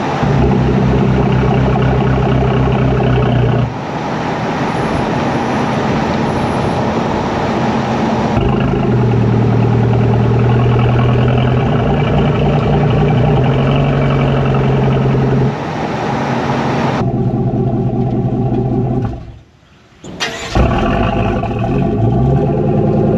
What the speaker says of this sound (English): At lower speeds, you can hear the fluctuations in the exhaust